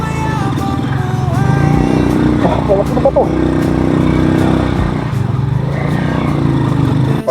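A motorcycle rides a rough, water-covered backdoor trail on the way from Lobo to Madaymen, its engine droning loudly and steadily up close with a few bumps and clunks, while a rider talks over the noise.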